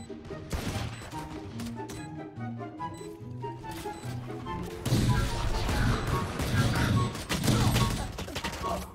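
Rapid gunfire from a Valorant match cracks in quick close bursts, thickening into a dense barrage in the second half, with in-game music and effects running underneath.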